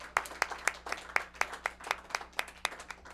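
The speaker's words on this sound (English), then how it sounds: "Let's give a round of applause for Kyle." Applause at the El Monte Tonight 2014 Thanksgiving Day Special, a steady run of evenly spaced, crisp claps from a small group of hands, fairly close and with no talking over it.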